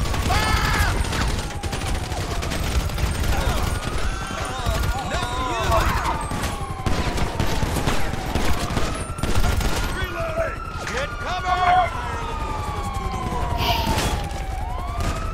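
GTA V street scene with rapid bursts of gunfire over wailing police sirens that rise and fall repeatedly, loud and continuous, with voices talking over the chaos.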